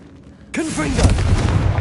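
A Confringo fire spell blasts in Hogwarts Legacy, landing as a sudden loud burst about halfway through and then a sustained roaring rush; a voice calls out over the blast.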